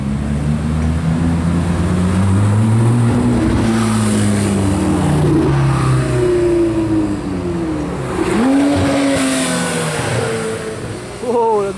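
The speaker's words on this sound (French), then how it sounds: "Combo de GT3 qui arrive." Porsche GT3 sports cars rev and accelerate through the streets of Cannes, loud rising and falling engine notes passing close by in overlapping waves, with someone talking over the noise.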